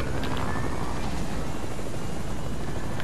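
Helicopter in a battle royale video game, a loud continuous rotor roar and engine drone that stays close and steady throughout with no breaks.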